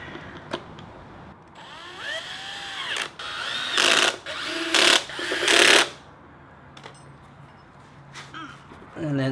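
A power drill driving tiny screws into a Onewheel's flight fender, several loud short whirring bursts between quieter handling noise, with someone talking at the start.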